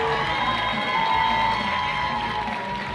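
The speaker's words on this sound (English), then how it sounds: "Give them a warm applause, please." Crowd cheering and applauding for women dragon boat racers after an under-18 2000 m standard boat race, a steady dense roar of voices and claps with a faint PA tone running through it.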